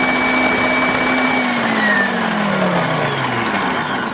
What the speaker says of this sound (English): he would just continuously be adding that whilst the mixer is going